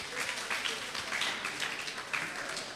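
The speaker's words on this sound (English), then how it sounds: "Please, a round of applause for her again." Audience applause at a school old students' association 50th anniversary gathering in Ilesa, steady dense clapping from a crowd filling the whole moment at an even level.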